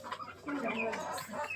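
Rooster clucking nearby on a small farm flock of Bahama chickens, a few short uneven calls with faint voices talking in the background.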